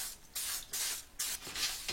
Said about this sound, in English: So I'm going to give a little dusting of cooking spray.